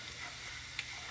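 Sausage gravy cooking in bacon grease in a pan gives off a soft, steady sizzle while being stirred, with one faint utensil tick partway through. It is quiet and close, with no voices.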